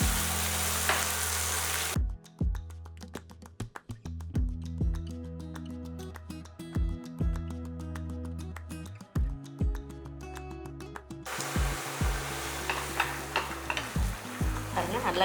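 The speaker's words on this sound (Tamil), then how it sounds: "ஆஃப் பண்ணிட்டு இந்த சூட்லேயே வதக்கி எடுத்துடலாம்." Sesame seed chutney stirred in a pan with the stove off, sautéed in leftover heat; soft sizzling between two stretches of clattering, tapping ladle-and-pan strokes, close and loud, with no talking.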